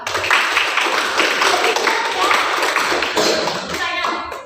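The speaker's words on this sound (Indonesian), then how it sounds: "Tepuk tangan dulu dong." A group of students in a classroom teaching-practice session clap together in a dense, even burst of applause that fills the short span before thinning at the end.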